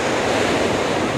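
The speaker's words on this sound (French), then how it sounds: "profitez des vagues du fleuve" Wash of river waves lapping against the Lisbon waterfront on the Tagus estuary, a steady broadband rush with some wind noise, close and continuous, no voices.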